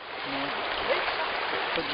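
Broadband rushing of a full, fast river during a rafting trip on the Limnytsia in the Ukrainian Carpathians, a steady close wash of flowing water throughout with no clear speech.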